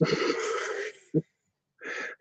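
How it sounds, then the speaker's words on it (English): A person lets out a drawn-out, voiced yawn, close and fairly loud, followed by a brief catch of breath and another short breathy sound after a pause. "When I stopped my yawn just then, I ended up with tons of extra moisture in my eye."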